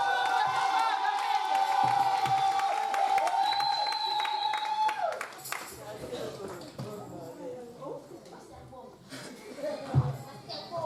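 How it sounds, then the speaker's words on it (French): A church congregation at a service cheers and applauds for the pastor: a dense, loud wash of voices and clapping for about five seconds, then thinning into scattered claps, shouts and murmuring. "Nous voulons faire une belle acclamation."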